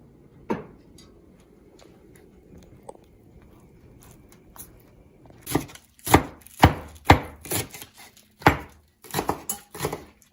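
Fresh green onions are chopped with a knife on a cutting board: a few scattered taps at first, then a quick run of sharp, close chops.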